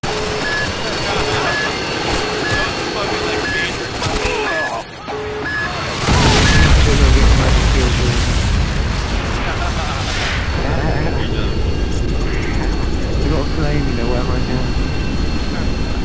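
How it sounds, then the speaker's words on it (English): A nuke detonating in a multiplayer video game: a sudden heavy boom about a third of the way through, then a long loud rumbling roar that fills the rest, with lighter gunfire clicks before it and voices talking throughout. "Look at the pretty explosion."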